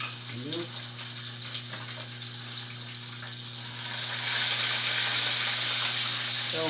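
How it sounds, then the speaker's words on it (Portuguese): Garlic and onion browning in a pan for Brazilian bean tutu, a steady broadband sizzle with a constant low hum beneath, growing louder partway through, with faint voice traces. "Eu coloquei só alho, eu coloquei cebola aqui pra dourar."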